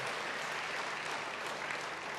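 A church congregation claps warmly in a steady, dense wash of applause that fills the whole moment at an even level, with no speech over it.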